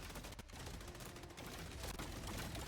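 Continuous machine gun fire during a Helldivers 2 battle against Automatons, a dense stream of rapid shots with scattered heavier impacts, steady and moderately loud throughout.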